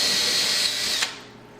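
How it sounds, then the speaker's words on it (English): Power drill boring a clean starter hole into drywall for plastic wall anchors, a steady high whine running close and loud for about a second before cutting off abruptly and leaving a faint hum. "Just take a drill bit size and just drill a nice clean starter hole."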